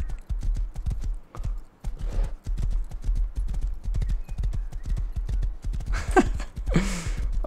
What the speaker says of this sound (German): Das ist Rüdigers Pferd